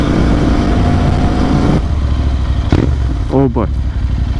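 A Royal Enfield Interceptor 650 motorcycle exhaust rumbles steadily and loudly under wind noise while being ridden, and a rider briefly speaks over it.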